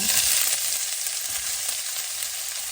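Sliced ginger frying in bubbling hot oil for a Filipino laing dish, a loud, steady, close hiss and crackle of sizzling that holds evenly throughout without voices.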